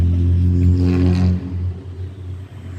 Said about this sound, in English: Obviously somebody doesn't think he needs a muffler, I guess.